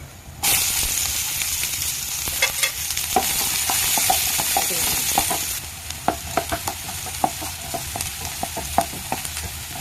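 Garlic and onion sauté in hot oil for sardines with egg, a steady loud sizzle broken by scattered crackles and pops, easing slightly partway through.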